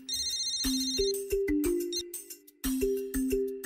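A mobile phone ringtone plays a bright electronic melody of repeating tones, close and clear, with short gaps between phrases.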